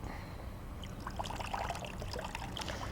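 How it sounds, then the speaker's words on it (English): Water draining from a freshly soaked seed-starting tray set aside indoors, a soft continuous trickle and dribble with faint scattered drips, steady and close. "I'm going to set that there to let it drain just a minute."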